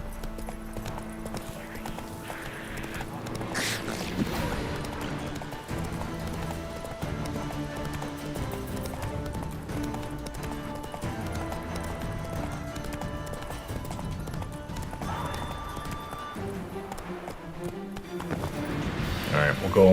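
Roach the horse's hooves gallop in Witcher 3, a steady clip-clop running under game music and a voice talking throughout, with a brief whinny near the middle.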